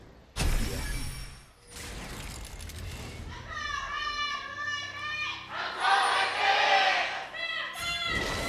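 A crowd at a League of Legends esports match between Samsung Galaxy and ROX Tigers in Korea cheers and chants loudly and steadily, with a cheerleader's high voice leading shouts over the roar.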